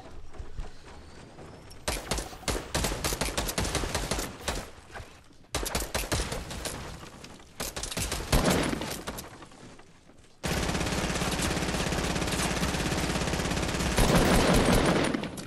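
Rapid bursts of automatic gunfire in Fortnite Battle Royale, dense rattling volleys broken by short pauses, then a long sustained stretch of continuous loud shooting and game noise.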